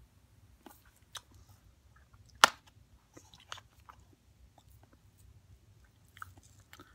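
Watermelon eaten with a sprinkle of seasoning: one crisp, close bite stands out amid soft, sparse chewing and small mouth clicks in an otherwise quiet room, with no talking.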